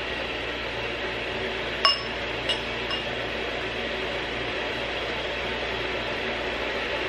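Wine glasses clink together for a toast at home, one bright chime followed by two fainter taps, set against a steady background hiss.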